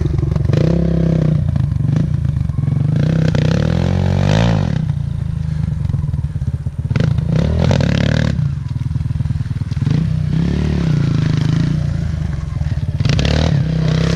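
Kawasaki KLX 140L dirt bike ridden on a private track, a close, buzzy single-cylinder engine repeatedly revving and backing off with rattles and clatter, with people's voices chiming in now and then.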